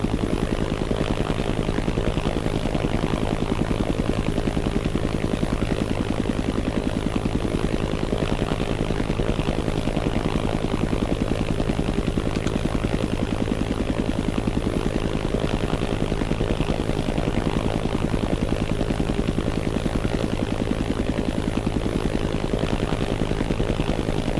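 Propeller aircraft droning steadily on landing in ArmA: Armed Assault, a continuous loud engine hum that holds unchanged the whole way through, with no talking.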